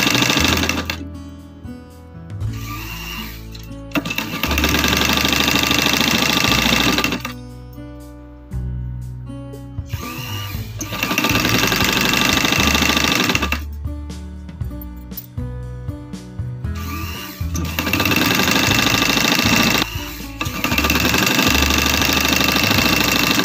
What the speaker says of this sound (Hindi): नीचे की तरफ ऐसे, बिल्कुल किनारे किनारे हम इस तरह से सिलाई लगाएंगे।